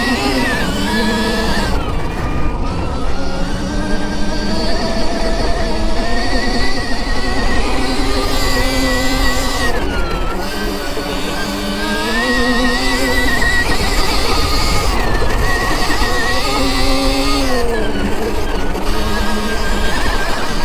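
Stark Varg electric dirt bike ridden across sand dunes, a steady high electric motor whine that rises and falls in pitch with throttle, continuous and close, with no talk.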